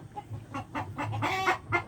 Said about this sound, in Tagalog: Napakaganda manok.